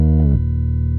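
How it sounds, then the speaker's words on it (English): A Moog-style bass synth played with the Solid Moog Filter Sync preset from the Trillion instrument gives a loud, sustained low bass note. A bright, sweeping filter-sync attack drops into a steady buzzing tone within the first half second. "Preset I use is going to be called Solid Moog Filter Sync"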